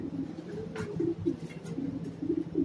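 Pigeons coo inside a loft, several low repeated coos overlapping in a steady rhythm, close by and moderately loud with no talk.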